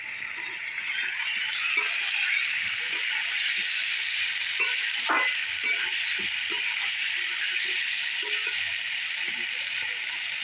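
Potatoes frying in a pan with ginger, garlic, onion and cumin, a steady close sizzle running throughout with occasional soft clinks and stirring scrapes.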